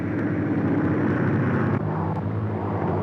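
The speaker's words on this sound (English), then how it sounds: "And now, they're arriving by airplane." A propeller airplane arriving at a ranch in a 1935 Western serial film, a loud, steady engine drone with a rough, rumbling low end that shifts slightly midway.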